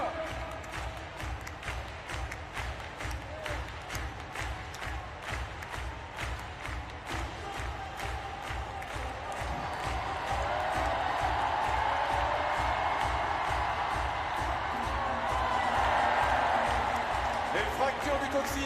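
A large stadium crowd at the Paris 2024 Paralympic long jump claps in steady rhythmic unison for an athlete, and the applause and cheering swell louder in the second half. A commentator talks over it.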